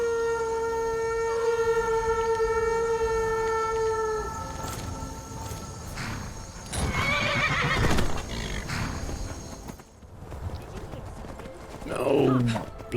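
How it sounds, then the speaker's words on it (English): A called horse in the video game Skyrim whinnies, a long whinny followed by snorts and hoof clatter, with someone talking partway through and other game sounds around it. "I'm going to call the horse."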